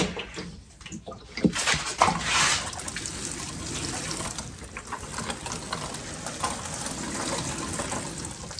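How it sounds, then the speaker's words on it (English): Water pours and splashes steadily onto peat moss in a seed tray, a continuous close-up trickle and gush with a few louder bursts early on. "Just kind of distribute the water evenly."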